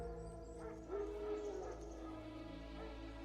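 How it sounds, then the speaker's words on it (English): Wild dogs barking in The Witcher 3, a few faint distant yips and barks over a low steady ambient drone. "No. Wild dogs."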